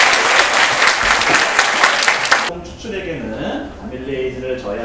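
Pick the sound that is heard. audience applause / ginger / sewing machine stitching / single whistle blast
audience applause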